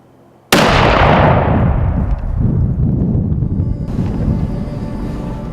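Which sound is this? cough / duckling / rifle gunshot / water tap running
rifle gunshot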